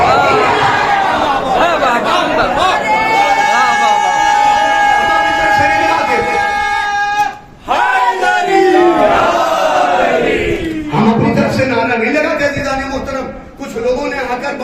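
At a majlis gathering, a large crowd chants the Naara-e-Haidri slogan in loud, sustained unison, call-and-response waves rising and breaking over about fifteen seconds with a brief pause midway.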